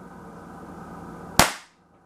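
A tiny airsoft pistol fires a single BB: one sharp, close crack after a quiet hum, followed by a short decaying tail and then near silence.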